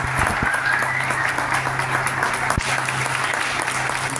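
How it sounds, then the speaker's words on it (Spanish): Steady, dense applause fills a church anniversary service, a whole congregation clapping loudly and continuously at close range with a faint low hum beneath. "Yo creo que un aplauso se le está dando un poco."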